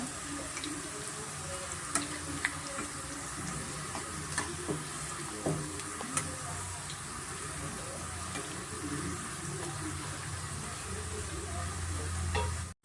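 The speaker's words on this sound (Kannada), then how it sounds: "ಸ್ವಲ್ಪ ಮೀಡಿಯಮ್ ಫ್ಲೇಮಲ್ಲೇ ನಾವು ಫ್ರೈ ಮಾಡ್ಕೊಂಡ" Crispy dill leaf pakodas fry in oil over a medium flame with a soft, continuous hiss and occasional small pops, ending in an abrupt cut.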